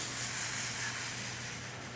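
Crepe batter cooks on a hot carbon steel crepe pan, giving a steady, soft hiss of sizzling that holds evenly throughout without speech.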